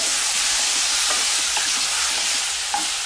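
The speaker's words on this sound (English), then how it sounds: "Give a little stir." Chicken thigh fillet pieces, boneless and skinless, sizzle steadily in a pan while being stirred, with soft scraping and light clicks over the continuous frying hiss.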